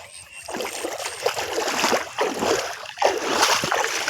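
Water splashes and swishes continuously as a person wades into a river, with uneven surges of sloshing and trickling close by and no voices.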